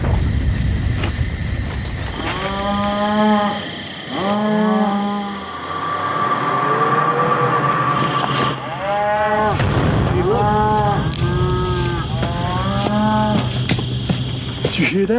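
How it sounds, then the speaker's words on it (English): Spooked cattle on a ranch moo loudly in long, drawn-out calls, several animals bellowing in overlapping bursts close by, with a steady rumbling background. "It's those cows that are over here."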